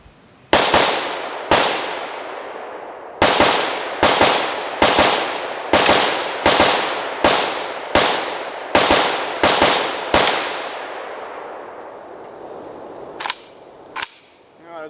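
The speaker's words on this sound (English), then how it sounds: "There's about 20 rounds through" Rapid, loud gunfire from a VEPR-12 shotgun and an AK-47 rifle at a range: about a dozen sharp reports in an uneven rhythm, each with a short decaying tail, then two lighter cracks after a pause.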